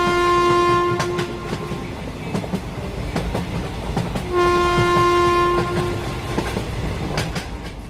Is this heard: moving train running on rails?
yes